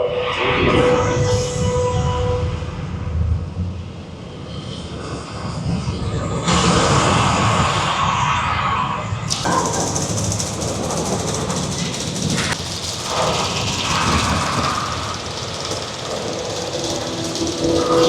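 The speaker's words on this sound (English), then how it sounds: "We have ignition sequence start. The engines are on." Rocket engines ignite for a launch at Kennedy Space Center, a loud, continuous broadband roar that swells and grows harsher partway through, heard from a distance with faint voices mixed in.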